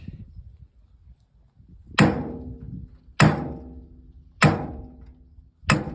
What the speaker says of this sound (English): I got my little sledgehammer and just tapped